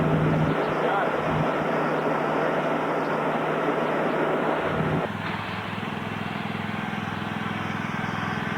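A tractor engine drones steadily while being driven on Vashon Island, a loud continuous rumble that shifts to a lower, rougher note partway through.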